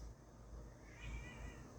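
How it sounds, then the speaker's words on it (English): Lita, a vocal house cat, gives a quick rising meow in the background of a podcast recording, soft and distant, heard alone for a moment with no voices. "if you hear this rampant meowing in the background, Lita's being very talkati"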